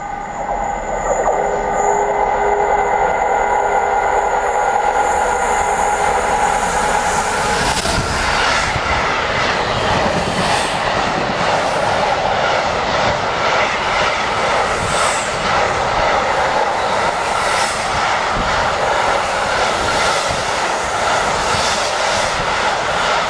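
Class 66 diesel locomotive 66060 hauling a southbound freight past Long Buckby, a loud continuous roar and rumble of wagons rolling close by, building after a quieter start and sustained throughout.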